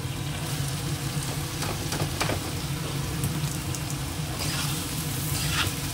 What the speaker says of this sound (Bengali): এবার দিয়ে দেবো কচুটা ঢেলে